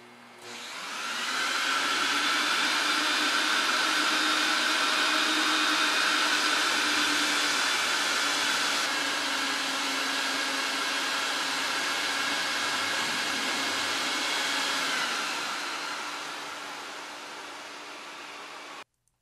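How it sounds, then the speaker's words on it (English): A powerful extraction vacuum draws cleaning solution out of a 10 x 14 wool Oriental rug in a warehouse, a loud, steady roaring whoosh that holds for about fifteen seconds before tapering off. "listen how the vacuum extract all the cleaner through the rug with so much power"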